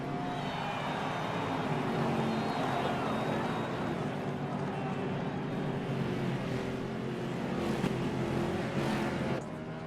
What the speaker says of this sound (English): Listen to those cars as Joey Logano passes on through.